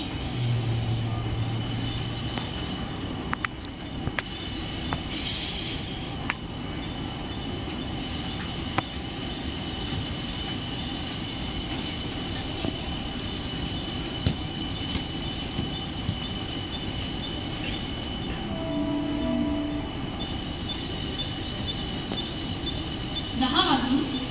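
A Mumbai Central line local train at a station platform gives a steady, moderate rail rumble with occasional wheel screeches, while public-address announcements and station voices carry over it.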